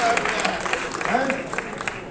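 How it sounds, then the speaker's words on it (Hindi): Spectators at a Kurukshetra film festival awards event applaud, a crowd of clapping hands heard beneath a speaking voice and a crowd murmur throughout. "रविंद्र राजावत के लिए जोरदार तालियां।"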